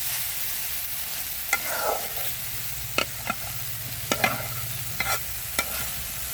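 Amrul greens with potato being stirred and fried in a pan, a low steady sizzle under a series of sharp spatula scrapes and clicks spaced a second or so apart, close by with no talk.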